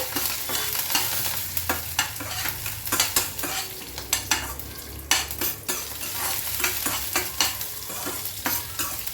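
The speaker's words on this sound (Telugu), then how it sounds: "సో ఇవన్నీ ఆయిల్లో వేసేద్దాం. కొంచెం దోరగా వేగేంత వరకు ఫ్రై చేసుకుందామండి." Coriander seeds, urad dal and other spices frying in oil, sizzling nonstop while a spatula stirs with frequent clinks and scrapes against the pan, and no one talks.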